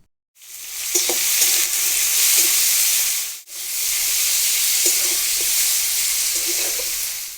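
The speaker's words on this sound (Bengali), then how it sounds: "পেঁয়াজের সঙ্গে টমেটোগুলোকে ভালো করে ভেজে নেব" Tomatoes frying with onions and salt in a pan give a loud, continuous hissing sizzle that briefly drops out for a moment before resuming just as strongly.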